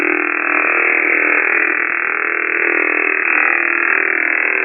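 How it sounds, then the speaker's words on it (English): Russian container radar signal, a steady dense band of buzzing noise that holds at an even loudness for the whole stretch, with no voices over it. "here was one of the Russian nuclear war radars"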